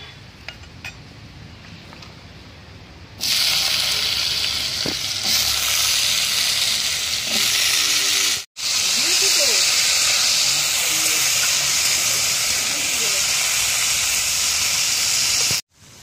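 Washed potatoes hit hot oil tempered with two dried red chillies and black cumin, bursting into a loud, steady sizzle that holds for several seconds, with a brief break in the middle and a few utensil clinks.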